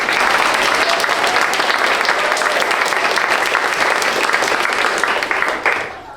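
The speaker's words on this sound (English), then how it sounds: "So please give everyone who participated in this a big round of applause." A large audience gives a sustained round of applause at a journalism event, dense even clapping holding steady for several seconds before tapering off at the end.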